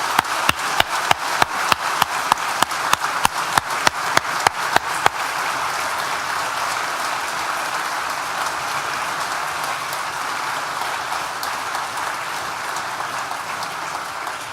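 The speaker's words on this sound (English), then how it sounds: "please join me once again for one big collective round of applause." At a university graduation ceremony for architecture and design, the audience joins in a big collective round of applause that starts with a run of sharp, rhythmic unison claps and then swells into steady, sustained clapping across a large hall.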